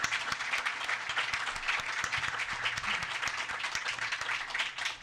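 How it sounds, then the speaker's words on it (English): Audience at a Hornets press conference announcing the 2014 All-Star Game in New Orleans gives a round of applause, with distinct individual claps standing out against the steady crowd clapping. "Let's give them another great round of applause for what they're doing."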